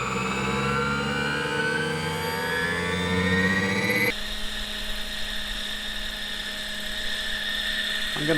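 A large 800-size scale RC helicopter, a Roban EC130, whines steadily with high turbine and rotor tones, the pitch shifting as it flies, loud and fairly close throughout.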